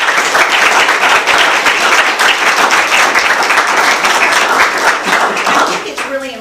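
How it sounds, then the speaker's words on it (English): Loud, dense applause at a county school board meeting honoring school state finalists, many hands clapping continuously in a crowded room before tapering off at the end. "So I want you to give all of these schools a round of applause."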